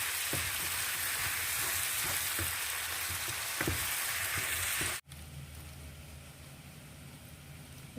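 Steady sizzling of food sautéing in a pan with salt and turmeric for a paneer mattar masala, with occasional stirring scrapes, then it abruptly drops to a quieter, softer frying hiss; no one talks.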